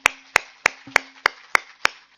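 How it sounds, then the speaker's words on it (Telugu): Loud, close claps from a group after a meditation session, landing together in a steady beat of about seven sharp claps, evenly spaced, with no talking. "ఓకే, ధ్యానాన్ని గట్టిగా క్లాప్స్ చేసుకుందాం."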